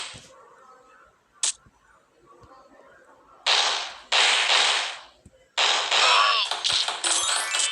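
Pistol gunfire in a video game: a single sharp crack, then several loud bursts of rapid shots in quick succession, close and dominant, with quiet gaps between.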